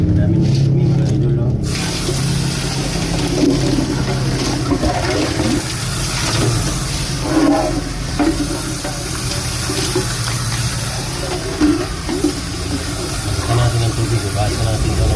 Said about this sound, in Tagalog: papalitan natin ito ng tubig